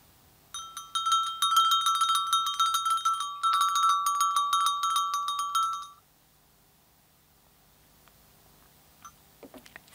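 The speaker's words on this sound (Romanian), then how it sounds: "Când auziți glasul clopoțelului, înseamnă că timpul a expirat." A small bell rings rapidly and continuously for about five seconds as a signal that time is up, bright and close with a brief gap midway, then stops abruptly into near silence with a few faint clicks.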